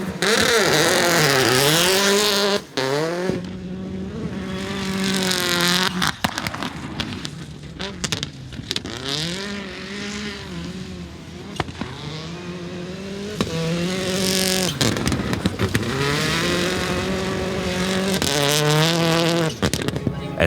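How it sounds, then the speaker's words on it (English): Hyundai rally car engines roar and rev hard at a New Zealand rally, pitch climbing and falling through quick gear changes, loud and close, with a voice talking over them at times. "For Hayden Paddon, it's a chance to confirm the car is ready for 250 kilometres of rallying"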